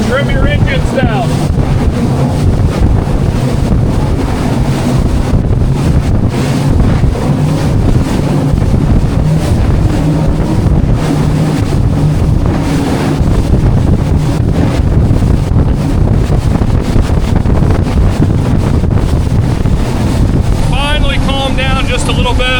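A Scout 355 LXF boat runs at about 36 mph through choppy water off the Florida Keys, with a loud, steady roar of engines, hull slap and wind buffeting the microphone throughout, while people talk over it.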